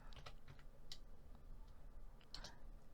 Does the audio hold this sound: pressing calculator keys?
yes